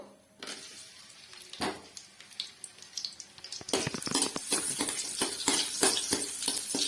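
Onions frying in a pan for Mandya-style egg sambar, with a soft start that gives way to crackling sizzle and scraping stirs, growing busier and louder toward the end.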